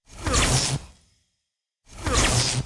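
A single sharp swoosh of air from the League Warden's air deployment in Clash of Clans, loud and close, then a brief silence before a second identical whoosh.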